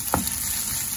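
A whole block of tofu fries in hot oil in a pan, giving a steady, close sizzling hiss with a couple of faint pops.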